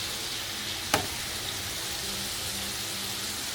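Chicken pieces frying in oil in a pan, a steady close sizzle with one sharp clink partway through and no talking.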